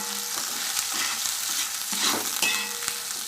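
Okra mixed with gram flour frying in a pan, with a soft sizzle and repeated scraping stir strokes at an irregular pace, close, with no speech.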